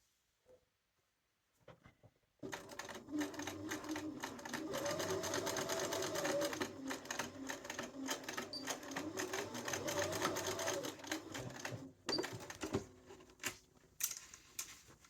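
A sewing machine stitches along a coat collar in a fast steady run of close mechanical clicking, starting after a few faint taps and stopping with a few short bursts near the end, with no talking.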